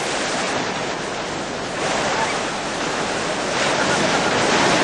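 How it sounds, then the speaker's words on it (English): At the port of Hadibo on Socotra, wind and waves from the north make a constant loud roar of surf and gusting air, a dense unbroken rush that swells slightly toward the end. "The port of Hadibo is constantly buffeted by winds and waves from the northern quadrants."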